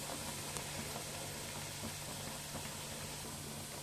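Thattai rice-flour crackers, three at a time, deep-frying in hot oil give a steady, even sizzle with a faint low hum underneath, continuous and close with no voices.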